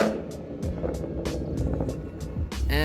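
A Chevrolet Camaro SS sixth-generation V8 rumbles steadily with repeated sharp exhaust pops and crackles from a cold exhaust, loud and close, ending in a rising whine.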